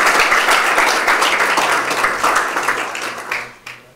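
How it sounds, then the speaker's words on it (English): Audience at a university startup final competition claps in a dense burst of applause that fades over a few seconds, with no talking. "Can you please give an applause to"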